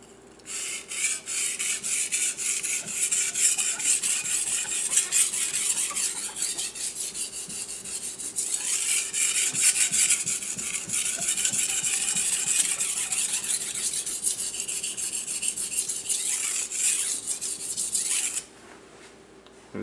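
A knife blade is rubbed steadily back and forth on a 400 grit sharpening stone, giving a continuous close, gritty rasping with even strokes for about eighteen seconds before it stops.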